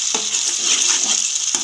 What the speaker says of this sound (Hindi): अब मैं इसमें दही डालूंगी और इसे अच्छे से मिक्स कर लूंगी।